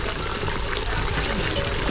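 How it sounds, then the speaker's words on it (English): Thick tomato and peanut paste pours into a pot of meat stew, giving a steady, close, wet gurgling pour with no break. "So the paste goes in straight like this."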